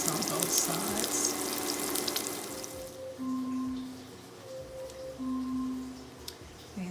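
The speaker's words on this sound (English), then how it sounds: "Allow the steak to cook about 6 minutes on both sides" Steak frying in a hot pan, a steady soft sizzle and crackle with faint steam hiss, close by, alone with no talk, plus a faint electronic beeping tone.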